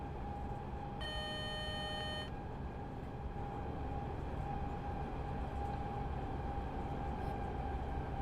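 A Czech regional train on the Liberec–Stará Paka line in Train Sim World 6 rumbles steadily under a low drone, with a short electronic tone chiming briefly near the start.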